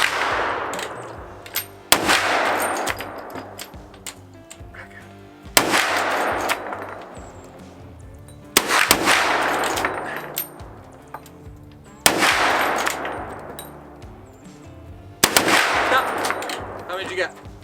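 Heavy .45-70 rifle shots ring out against a steel target, about six loud sharp blasts spaced a few seconds apart, each followed by a long ringing decay.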